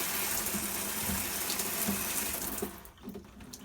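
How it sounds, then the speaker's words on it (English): Water runs and splashes from an RV shower head, a steady close hiss that thins out near the end as the flow is shut off, leaving faint drips, with no one talking. "the reason that's dripping is because when you shut it off or turn off the water supply, the water comes back out of the air ports"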